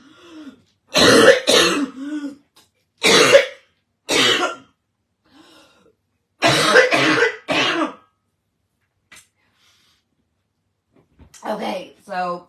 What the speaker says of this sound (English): I just need to clear my throat